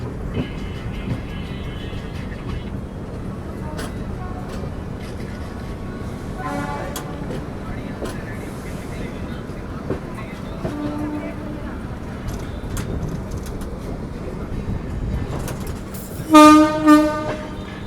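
A train rumbles and clacks along steadily while departing Bhusawal Junction, a busy Indian railway station, then a loud horn blares near the end; faint voices and station noise sit underneath.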